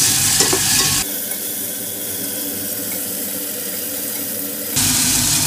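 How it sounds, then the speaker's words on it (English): Tomatoes frying in a tablespoon of olive oil, a loud close crackling sizzle that drops to a quieter hiss midway and then surges back, with faint stirring. "Next, we will add our tomatoes. Let's cook for 1 minute."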